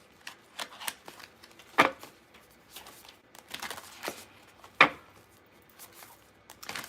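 Tarot cards being shuffled by hand, a series of soft irregular riffles and flicks with a couple of sharper snaps, close and fairly quiet with no talking.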